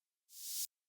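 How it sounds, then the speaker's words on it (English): Reversed white noise transition effect for an alt-rock production, a hiss swelling up from silence over about half a second and cutting off abruptly, followed by a brief burst of noise. "What we have for transitions here is just like a white noise reverse"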